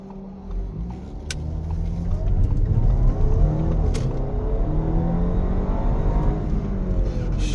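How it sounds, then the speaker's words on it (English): Steady engine hum and road rumble fill the cabin of a 2017 Audi A4 while driving, loud and continuous with a slight rise as it accelerates. "Give us a nice idea of how it sounds inside the cabin."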